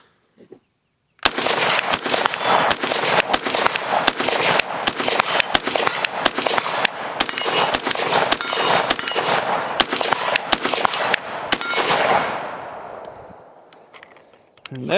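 An ACR rifle fired in rapid succession, a long string of loud sharp reports for about eleven seconds that then fades into echoing tail noise near the end.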